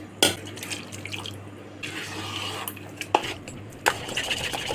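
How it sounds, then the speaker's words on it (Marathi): Water trickles and sloshes into a bowl of semolina batter for appe amid clinks and scrapes of a utensil against the sides, close up, with sharp knocks now and then. "थोडं घट्ट आहे, थोडं पाणी टाकत आहे."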